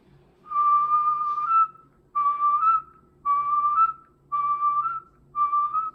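A cheek-warbled whistle in five separate phrases, each a held note that wobbles and lifts slightly at its end. Close, clear and without speech.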